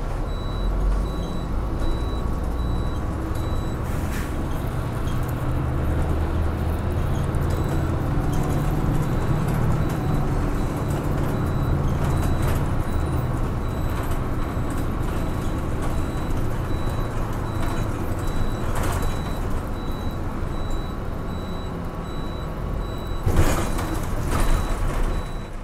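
Riding alone inside a bus, a steady engine rumble and road noise drone on for the whole stretch, with occasional hisses of air brakes and scattered beeps and clatter, no talk.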